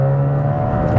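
Hybrid-turbo Seat Ibiza FR engine, tuned to roughly 300 bhp, holding a steady, loud, rally-car-like rev with a constant droning tone and no talk over it.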